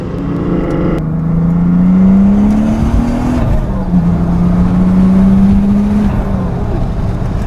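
A twin-turbo VR6-swapped, all-wheel-drive, six-speed manual Volkswagen New Beetle accelerates hard on boost, its engine droning loud and near as the pitch climbs, drops at a gear change, then climbs again.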